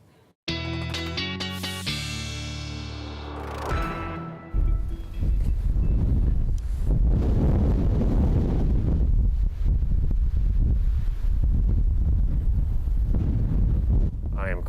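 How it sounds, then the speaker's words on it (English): After a short burst of tonal music, strong gusty wind roars into the microphone in Toronto in February, buffeting loudly and continuously with deep rumbling surges. "You had to hold on to your hats today. It was windy out there."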